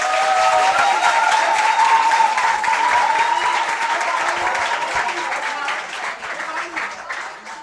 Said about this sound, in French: on applaudit encore pour les deux équipes